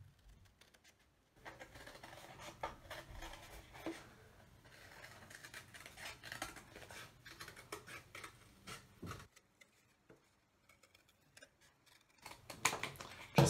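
Scissors snip steadily through paper, cutting out a paper tail feather for an Earth Day owl collage, with close, crisp repeated cuts and brief pauses between runs of snipping.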